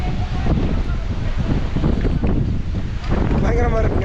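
Strong monsoon wind roars into the microphone near Amboli waterfalls, a loud steady rumbling buffet that never lets up, with a voice speaking faintly beneath it.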